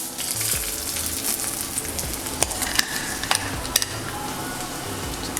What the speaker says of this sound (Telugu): దీన్ని ఒకసారి కలబెట్టుకుందాము